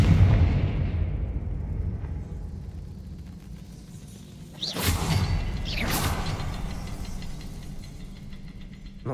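A Confringo spell blast in Hogwarts Legacy: a fading rumble opens, then two sharp whooshing explosive bursts about a second apart, loud and close, with rumble lingering after each.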